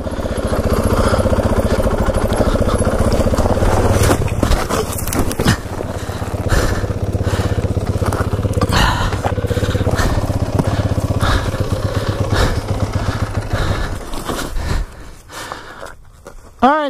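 Motorcycle ridden hard: a loud, continuous engine roar with wind buffeting and shifting throttle, heavy breathing over it, easing off near the end.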